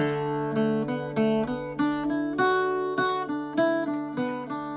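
Irish bouzouki picking the first line of the A section of the tune MacArthur Road, a steady run of bright plucked notes over ringing drone strings, played alone and close.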